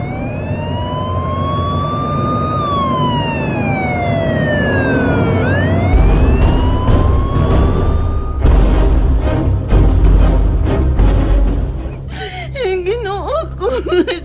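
A stolen ambulance's siren wails loud and close, sweeping up and down in long glides, then switches to a rapid yelp over a rumbling engine before cutting off into a different tone near the end.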